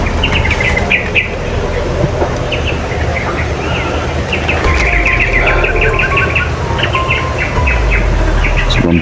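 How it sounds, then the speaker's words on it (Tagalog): Many birds chirp and sing in a forest, with bright overlapping calls repeating throughout over a low, steady background rumble. "Sobrang daming ibon tol, itong gubat ito. Sobrang daming ibon."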